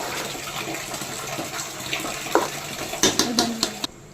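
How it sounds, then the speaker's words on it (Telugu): Water poured into ration rice being mixed for chicken pulao, a soft close splashing and trickling with a few sharper sloshes and clinks toward the end, with no talk. "కొంచెం వాటర్ అటు ఇటు పోయాలి కదా"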